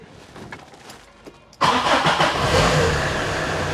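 An old Tata car engine cranks and catches at once, jumping to a loud, steady running roar close by after a quiet start.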